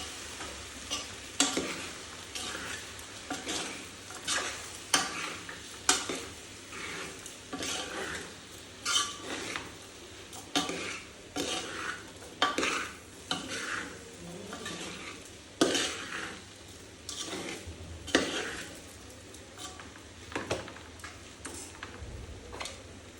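Potato poha stirred in a pan, a spoon scraping and tapping the metal in a steady repeated rhythm over a soft sizzle, close up with no talking.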